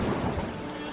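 Steady rain with low rumbling thunder fills the whole second, a broad wash of noise close and even throughout.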